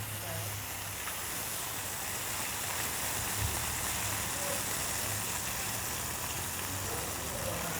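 Lobster cooking in a hot pan, a steady loud hiss and sizzle that holds constant throughout with a low hum beneath.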